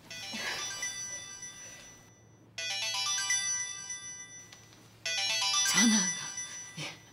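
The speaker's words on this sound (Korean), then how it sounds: "전화가." An electronic phone ringtone plays a bright repeating melody in three bursts separated by short pauses, with a voice briefly speaking between them.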